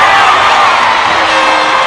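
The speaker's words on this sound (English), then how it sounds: "Huge crowd on hand tonight. And it is a touchdown." Roaring crowd cheering a touchdown at a night high school football game between Hampton and Heritage, a loud, sustained wall of shouts and whoops held steady from start to finish.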